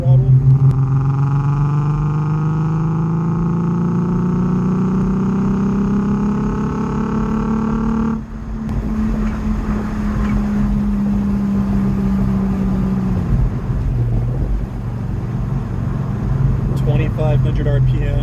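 A Nissan 350Z / Infiniti G35 engine with Manzo cat-delete test pipes, pulling at half throttle in third gear around 2,500 RPM, gives a steady rising drone with clear harmonics. The note shifts about midway and stays loud throughout.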